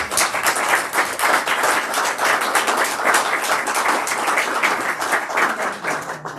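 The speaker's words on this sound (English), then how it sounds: "Let's give him another round of applause." A room full of people claps in a loud, even round of applause for a congratulated colleague, dense and steady from start to finish with no talking over it.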